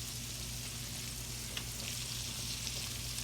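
Chicken fried steak fries in a pan, a constant quiet sizzle and crackle with a faint steady hum underneath.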